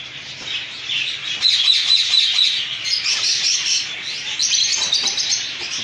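Cockatiels and budgies kept for breeding call loudly and close by, with bright overlapping chirps, squawks and repeated tweets filling the clip and no talking.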